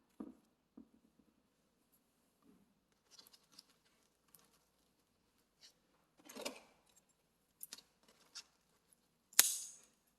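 Scissors snip succulent cuttings on a quiet tabletop, with a scattering of soft, sparse clicks and snips and one sharper cut near the end.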